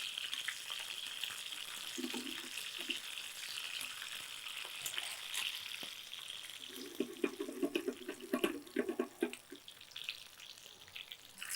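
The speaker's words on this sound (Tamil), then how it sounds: "சின்ன வெங்காயம் இது என்ன செய்யணும்னா அப்படியே லைட்டாக தாளித்து எடுத்துடலாம்" Small shallots fry lightly in hot oil for tempering, a soft continuous sizzle with bursts of crackling spitting and occasional stirring, fairly close and moderately quiet, no one talking.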